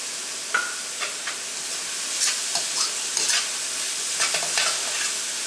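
Onion, ginger, garlic and green chilli fry in hot oil, giving a steady sizzle broken by a few sharp scrapes and clinks of a stirring utensil against the pan, close and fairly loud.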